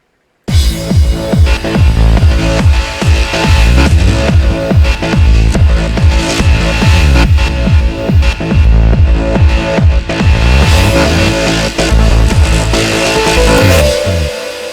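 A trance bass line made in FL Studio, a reverse FM bass sent unfiltered to the master, swells in repeated pumping notes against a steady, punchy kick drum, loud and close, with a short fading tail.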